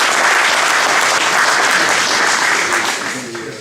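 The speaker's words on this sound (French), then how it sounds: "je pense que vous pouvez vous applaudir vous-même." Referees at an end-of-season meeting applaud themselves, a dense, steady round of clapping filling the room that holds strong before tapering off near the end.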